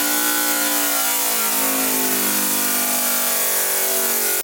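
A Lego air-powered four-piston engine running at 40 psi gives a loud, continuous high-pitched whir with a buzzing pulse, its tone sliding slightly as it holds near top speed, close and steady throughout.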